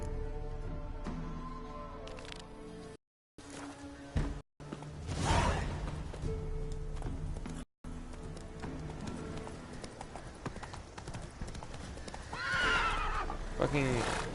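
Roach the horse in The Witcher 3 neighs and whinnies while hooves clip-clop at a gallop, game music and a voice running underneath throughout.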